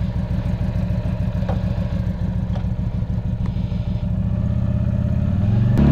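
Keeway V Cruise 125 motorcycle on the move at night: a loud, steady engine drone with a fast pulsing rhythm holds throughout and deepens slightly toward the end.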